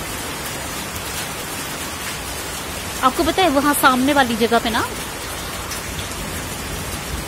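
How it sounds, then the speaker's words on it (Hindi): Steady rain hisses throughout, and a person speaks briefly over it partway through. "काश ये बारिश सब जगह हो जाए।"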